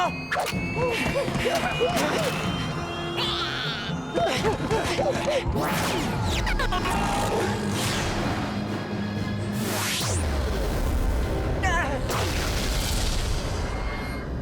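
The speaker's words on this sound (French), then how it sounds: "Attention à l'explosion!" A loud, dense burst of explosive booms and crashes from a radiant slug exploding in a children's cartoon, layered with sharp whooshes and zaps, continuing thickly throughout.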